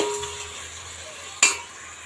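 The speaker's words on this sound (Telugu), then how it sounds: "ఇది కూడా పచ్చివాసన పోయే వరకు వేపుకుందాము." Rice and ginger-garlic paste fry in a pan for spinach pulao, giving a soft, steady sizzle with one sharp spoon clink against the pan midway.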